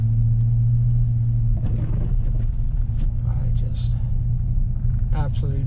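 A Chevrolet Silverado pickup drives in a snowstorm on slippery roads without traction, its engine giving a steady close low droning rumble throughout while someone talks over it.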